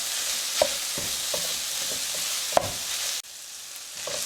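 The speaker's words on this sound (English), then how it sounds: "you are going to simply cook your Italian sausage" Italian sausage fries in a pan with a steady broadband sizzle, while a utensil scrapes and stirs in irregular clicks and one sharp knock near the end; no voices.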